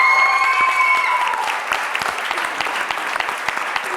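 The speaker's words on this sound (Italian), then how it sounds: "Facciamo un applauso agli insegnanti." An audience claps for the teachers, steady crowd applause throughout with a brief tonal whistle or ring in the opening second.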